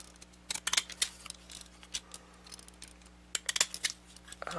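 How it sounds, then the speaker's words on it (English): Pinking shears snipping paper stamps, a series of short crisp cuts in irregular clusters, close and fairly quiet against a faint steady hum. "pinking shear scissory thing"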